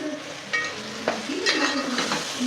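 Ginger paste being stirred into frying tomatoes in a pan while making biryani, a steady close sizzle broken by a few scraping stirs over about two seconds.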